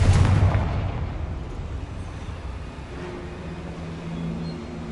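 A Confringo fire spell in Hogwarts Legacy bursts with a heavy boom at the start, then a rumbling tail fades out alone over the next few seconds.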